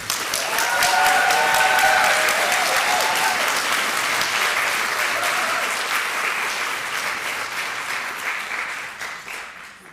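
An audience at a Women's Hall of Fame ceremony applauds to welcome an award recipient. The clapping is loud and sustained and fades slowly over ten seconds. A few brief voices rise under it.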